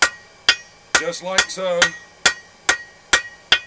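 A blacksmith's hammer strikes steel stock on an anvil while forging a sea horse, its edge used like a fullering tool. Loud, ringing blows land at a steady pace with a quicker flurry in the middle, and someone speaks briefly.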